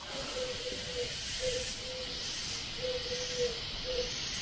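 A spray gun hisses steadily as it lays down a narrow, closed-in fan pattern, a broad continuous airy spray with faint tonal whines coming and going, and no talking.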